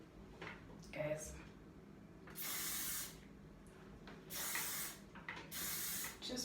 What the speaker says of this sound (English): So right now I'm just making sure that all the curls have the spray